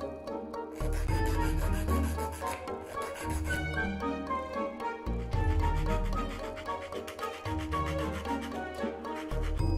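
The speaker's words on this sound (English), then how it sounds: "Now I'm sanding down all of these burrs, including the edges and those tricky corners." Continuous rasping sandpaper strokes rub back and forth against wooden parts of an antique projector build, sanding off burrs, close and steady, with a strong tonal hum running underneath.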